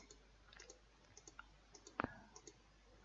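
Light keyboard typing in a quiet room: scattered soft clicks at an uneven pace, with one louder double tap near the middle.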